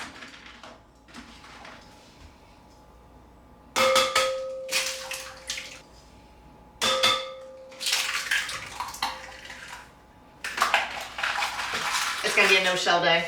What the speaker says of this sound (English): Crack in 4 eggs.